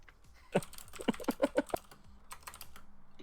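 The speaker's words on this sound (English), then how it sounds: "what are you typing? It's very loud." Rapid, uneven clatter of keys on a computer keyboard typed fast and close, with louder clustered strikes in the middle and a softer patter toward the end, no talking.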